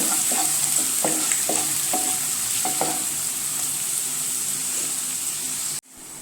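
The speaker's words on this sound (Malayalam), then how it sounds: "ഒരു സവാള ചെറുതായി അരിഞ്ഞ് ചേർത്ത് കൊടുക്കുക. നന്നായി ഇളക്കി കൊടുക്കുക." Finely chopped onion sizzles steadily in a hot pan while a spoon stirs it in a few distinct scraping strokes, close and loud, before the sound cuts off sharply near the end; no voices.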